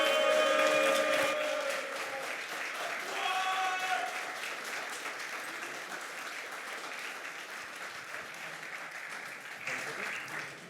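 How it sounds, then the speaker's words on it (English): An audience applauds at a Trackadia tournament awards ceremony, a sustained burst of clapping that swells and fades across about ten seconds, with a voice speaking over it near the start. "Give an applause for Bings!"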